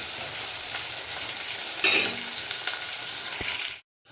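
Chopped onions sizzle steadily in a hot pan, a continuous bright frying hiss with a few louder crackles and stirring scrapes, close and alone, ending in a brief silence.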